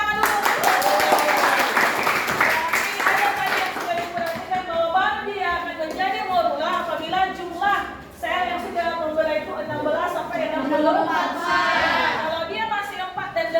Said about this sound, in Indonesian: Oke, berikan tepuk tangan dulu.